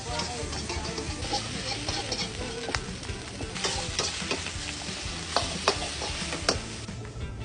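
Chicken noodles are stir-fried in a wok over a charcoal stove at a busy Bangkok street-food stall, with steady sizzling and frying under repeated metallic scrapes and clacks of the spatula throughout.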